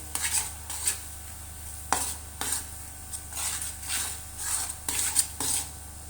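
Sweet potato roasts in ghee in a kadhai for halwa. A spatula scrapes and knocks against the pan in a steady rhythm of stirring strokes over a faint background sizzle, with no talk.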